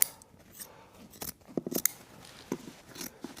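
Scissors snip through upholstery fabric while trimming bulk for a pleat, a few quiet, close crisp cuts and rustles scattered irregularly with no voices.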